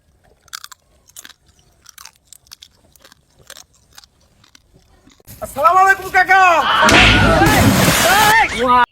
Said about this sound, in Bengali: তাজা কাঁকড়াটি চিবিয়ে খাচ্ছে